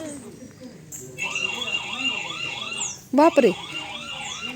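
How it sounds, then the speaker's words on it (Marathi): A CCTV camera's alarm siren wails in a steady rising-and-falling warble at moderate volume, with a person's short exclamation cutting across it near the end. "सायरन वाजत त्याचं"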